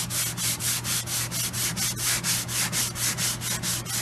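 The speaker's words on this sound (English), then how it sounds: "This is with 180 grit. It's very fine sandpaper." Hand sanding of guitar wood with fine 180 grit sandpaper on a 1968 Conde-style guitar, steady rhythmic back-and-forth strokes about three per second, close and alone.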